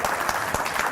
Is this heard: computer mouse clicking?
no